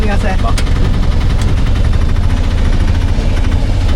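A 2026 Piaggio Ape Classic auto-rickshaw engine runs steadily throughout, a loud, continuous low putter with rough mechanical vibration and a few brief knocks near the start.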